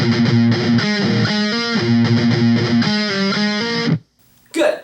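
Distorted electric guitar slowly playing a phrase from a song, a loud continuous run of picked notes that stops abruptly, followed by a brief short sound at the end.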